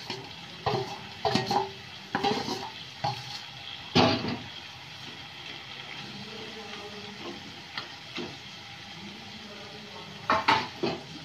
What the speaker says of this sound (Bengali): বন্ধুরা, এবার আমি মাছের মাথাগুলো ভেজে রাখা দিয়ে দিচ্ছি